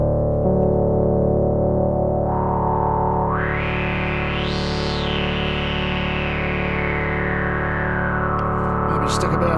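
Sustained chords on a Korg opsix synthesizer using its Poly 6 model, with a filter sweep opening the tone brightly upward and slowly closing again, loud and steady, with a short burst of brighter noisy content near the end.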